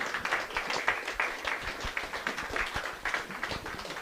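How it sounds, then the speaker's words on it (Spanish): A church congregation claps hands in praise during a Bible seminar service, with steady, dense, rhythmic clapping from many people throughout. "Alábale con tus palmas al Señor"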